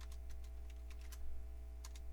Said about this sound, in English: Just hit new and type in MS-DOS